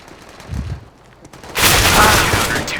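Gunfire in a video game erupts as a loud, dense burst of rapid shots partway through, following a brief quieter stretch with faint muffled talk.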